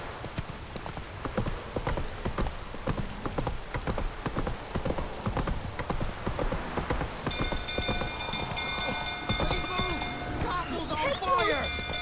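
Horse hooves clip-clop in a steady galloping rhythm throughout, set in The Witcher 3 amid a burning castle, with rain-like patter and a bright ringing tone entering toward the end.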